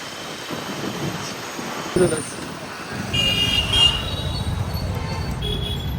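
A BMW car drives at full speed through traffic, a loud steady road roar with passing vehicles and horn toots, while people talk over it.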